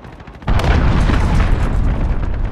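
A deep, loud boom from an allied cruise missile in Call of Duty: Modern Warfare multiplayer, striking suddenly after a brief quiet and rolling on as a long rumbling explosion.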